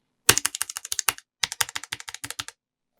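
A stock Snackbox Micro leverless controller gets its buttons pressed in quick bursts, sharp close plastic clicks in two runs with a short pause between.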